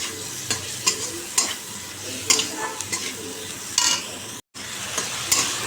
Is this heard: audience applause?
no